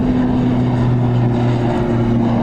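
An Aer Lingus Regional ATR 72-600 turboprop airliner at Dublin Airport gives a loud, steady propeller drone with a sustained humming tone, heard alone.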